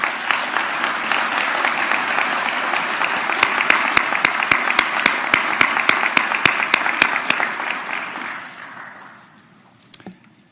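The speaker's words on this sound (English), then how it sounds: "Please join me in giving them a round of applause for that." A graduating class of new veterinary doctors at a white coat ceremony receives sustained, dense audience applause that stays steady for about eight seconds, then thins to a few scattered claps and fades.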